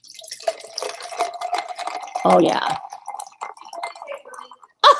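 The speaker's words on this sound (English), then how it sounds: "let's listen to the pouring of the pop into the glass." Fizzy pop poured from a glass bottle into a glass, a bubbling, splashing pour swelling briefly in the middle, with people chatting and exclaiming around it.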